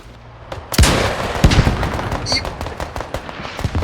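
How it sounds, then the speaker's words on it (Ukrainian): Rapid bursts of gunfire crack repeatedly in a video game, loud and close, some in quick clusters, with game-like sound effects and a ringing tone mixed in. "Обережно, постріл!"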